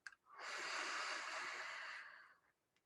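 A long, steady exhalation during a guided meditation, a soft airy breath swelling after a brief inhale and holding for about two seconds before fading, close and alone with no talking.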